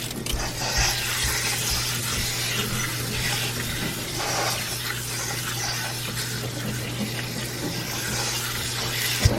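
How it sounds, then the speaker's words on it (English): Water runs from a kitchen sink tap as rutabagas and turnips are washed, a continuous splashing rush with a steady hum beneath and occasional knocks of vegetables against the sink. "let's take these over to the sink. Let's wash them."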